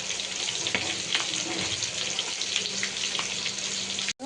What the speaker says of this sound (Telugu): చేప ఎంత బాగా ఫ్రై అయిపోతుంది చూడు